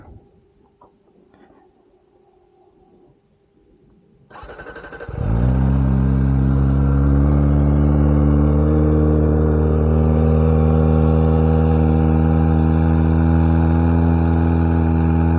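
After a few quiet seconds with faint noise, a Kawasaki Ninja ZX25R motorcycle cranks and fires up, then settles into a loud, steady high idle as it warms up close by.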